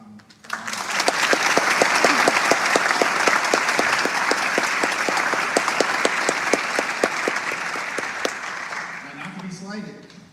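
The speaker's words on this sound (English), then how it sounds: "Can we please give them a round of applause?" An audience gives sustained applause for scholarship donors at a Kimmy Duong Foundation scholarship ceremony at NOVA in Annandale, Virginia. The clapping swells quickly, holds steady and loud for several seconds, then tapers off as a voice begins.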